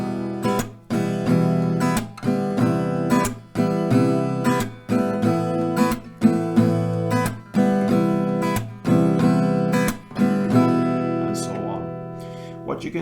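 Acoustic guitar strumming the chord progression of a song, two strumming rounds per chord, with steady, evenly spaced strokes ringing out close and clear, with no voice over it, before fading at the end.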